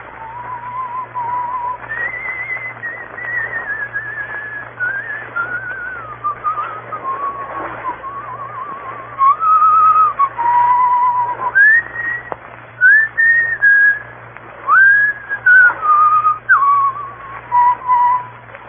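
A man whistles the Scottish song Annie Laurie in a radio drama adaptation of The 39 Steps, a clear melodic tune sustained for about nineteen seconds over a low steady hum, with no talk.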